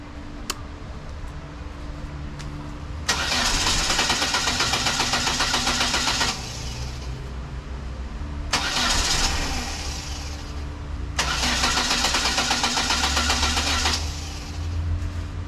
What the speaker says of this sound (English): There's like moments of it wanting it to start